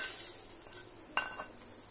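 Boiled cabbage stir-fried with a spiced tempering hisses softly in a pan, with one brief scrape of a spoon and a faint clink partway through.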